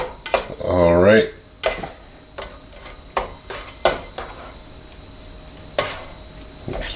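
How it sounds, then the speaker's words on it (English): Scrambled eggs are stirred in a warm pan, with irregular clinks and scrapes of the utensil against the cookware. A short tonal sound comes near the start, and the sounds are spaced apart at close range. "keep mixing and stirring while that pan's a little warm"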